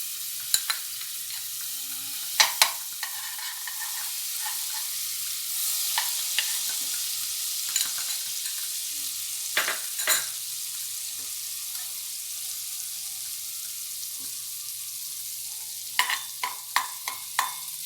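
Butter melting in a hot pan for butter chicken, giving a soft steady sizzle broken by occasional sharp clinks and taps of a utensil against the pan, close and fairly quiet, with no talking.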